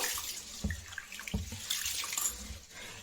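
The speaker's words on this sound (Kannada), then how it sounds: "ಅಕ್ಕಿನ ಚೆನ್ನಾಗಿ ಹೀಗೆ ಕೈಯಲ್ಲಿ ಎಲ್ಲ ಸರಿ ಮಾಡಿಬಿಟ್ಟು ಚೆನ್ನಾಗಿ ತೊಳ್ಕೊಬೇಕು" Rice grains being rubbed and rinsed by hand in a bowl of water, giving soft sloshing and swishing with a few splashy bursts, close and steady with no talk.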